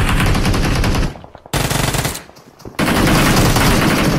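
Sustained automatic gunfire in a battle royale mobile game firefight, loud and continuous, with a brief pause before the rapid bursts resume.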